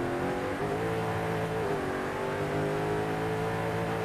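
A Chevrolet Camaro in Forza Horizon 5 holds a steady, loud engine drone at high gear, with a continuous harmonic whine and a slight pitch shift partway through and no talking.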